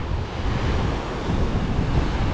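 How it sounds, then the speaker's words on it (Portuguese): Huge storm surf pounds Praia Grande beach at Arraial do Cabo, Rio de Janeiro, a loud, continuous roar of crashing waves mixed with buffeting wind noise on the microphone, with no voices. "Aquelas ondas ali, ó. Enormes, já cobrindo tudo."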